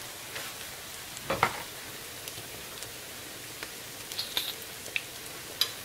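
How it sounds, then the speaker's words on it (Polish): Potato pancakes with minced meat frying in oil, giving a quiet, steady sizzle with scattered crackles and pops, plus a brief louder clatter of handling near the start and a few sharp spits toward the end. "Więc około 5 minut musimy je smażyć."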